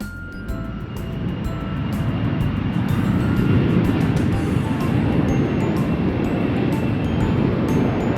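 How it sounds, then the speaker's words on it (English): An airplane roars steadily, a broad loud engine rush that swells in the first seconds and holds evenly, with small clicks over it. "Airplane."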